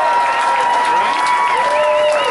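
Sustained applause from an audience at a cast introduction event for CMT's Sun Records, with cheering and whistles riding over dense, loud clapping.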